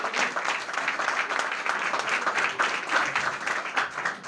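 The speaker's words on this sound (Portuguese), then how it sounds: "palmas para Jesus" Church congregation applauding to welcome a speaker, dense continuous clapping with no talk, moderately loud and steady for several seconds.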